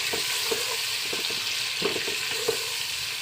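A spoon stirs chopped tomatoes into turnip and fenugreek sabzi frying in a pan, giving a steady sizzle with soft, irregular scraping and clinking from the stirring throughout.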